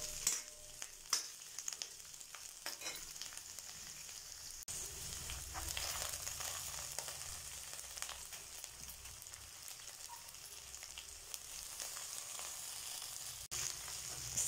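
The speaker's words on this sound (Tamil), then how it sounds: "சேர்த்துட்டு ஒண்ணா வதக்கிக்கலாம் நம்ம சேர்த்திருக்க புதினா வந்து நல்லா சுருண்டு வரணும்" Mint leaves sautéing in a pan for chutney give a steady, close sizzle and frying crackle throughout, with occasional stirring scrapes and no talk.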